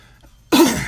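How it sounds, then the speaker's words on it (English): A single sharp, close cough bursts out of near silence and fades quickly. "Excuse my cough."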